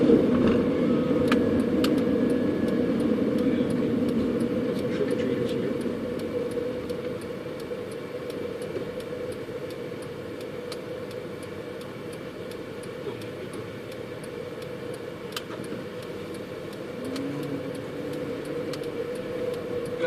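Cars pass along a street at night with trick-or-treaters about, a continuous engine drone and road noise that slowly fades and swells again, faint ticks scattered on top.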